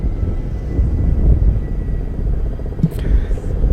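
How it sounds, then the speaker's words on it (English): A steady, low rotor-and-engine rumble of three Kamov Ka-31 helicopters passing overhead at a naval fleet review in Visakhapatnam, droning throughout beneath continuous talk from a commentator. "Three Kamov 31 helicopters."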